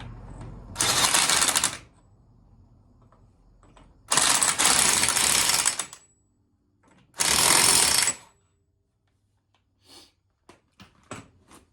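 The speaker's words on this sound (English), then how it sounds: "I'll put the axle nut back on." Three loud bursts of an impact wrench spinning an axle nut on a CFMOTO ZFORCE 800ex side-by-side, each lasting about a second with pauses between, followed by a few faint clicks.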